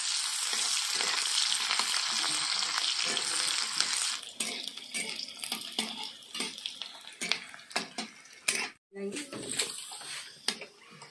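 Onion and dried chilli fry in mustard oil, giving a strong, bright sizzle at first that settles into softer crackling broken by scraping and clattering stirs against the pan.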